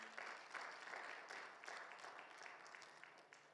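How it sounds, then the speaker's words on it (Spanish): A church congregation claps together in a sustained round of applause, a dense, moderately distant patter of many hands with no voices over it. "¿Cuánto le dan un fuerte aplauso al Señor"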